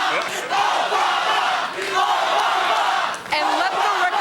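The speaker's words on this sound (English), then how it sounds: "among the people yelling Obama right now are the people holding Hillary Clinton's signs" A large crowd at a Democratic National Convention chants and yells in loud, rhythmic surges, briefly dipping before swelling again.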